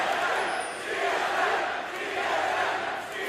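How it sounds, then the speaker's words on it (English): Esports arena crowd at a League of Legends North American final, TSM against CLG, cheering and roaring; a sustained, swelling wash of voices at moderate distance with no clear talk over it. "TSM definitely audible through the noise of the crowd"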